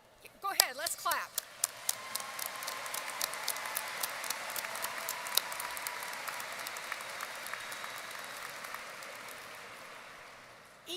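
Applause at a university undergraduate commencement ceremony welcoming the student speaker; after a brief voice at the start, crisp individual claps build into steady, fairly distant crowd clapping that gradually thins out.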